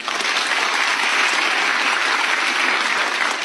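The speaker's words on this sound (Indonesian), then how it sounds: "Boleh tepuk tangan." Steady, dense applause from a large audience at a comedy roast-style show in Indonesia, loud and even throughout with no voices rising above it.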